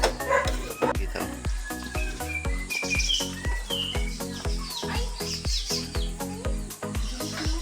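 Dog barking outdoors during a home cooking session, repeated sharp barks in a steady rhythm, fairly close, with people talking around it.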